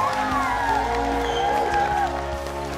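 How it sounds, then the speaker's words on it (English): A crowd claps and cheers at a charity event, a dense wash of applause with whoops and some voices mixed in, fairly loud and close throughout. "I want the biggest clap of all for these two"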